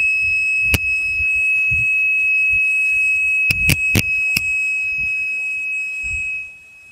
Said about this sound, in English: I'm not sure what that alarm is about.